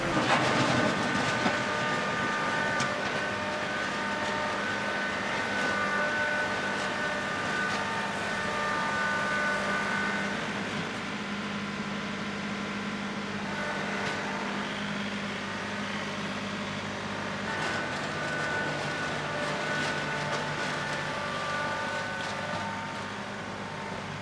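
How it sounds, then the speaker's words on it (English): A tractor engine running on throttle at a job site, a steady loud mechanical rumble with a rattling clatter that holds for the whole stretch, shifting slightly in tone partway through, with no voices. "You can't run this tractor idle. It doesn't have enough horsepower."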